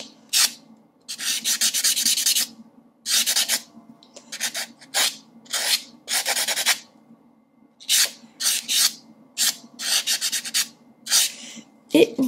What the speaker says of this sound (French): je vais venir prendre mon petit bloc polissoir